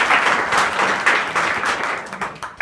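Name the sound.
students clapping applause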